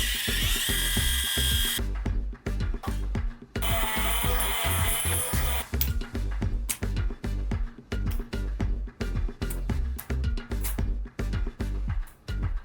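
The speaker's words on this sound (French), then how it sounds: "la pompe dans le pot et on pulvérise" An airless sprayer pump set in a pot of wall filler runs in loud bursts of mechanical whirring and chattering, with short pauses between, and hissing spray passages mixed in, close up with no talk.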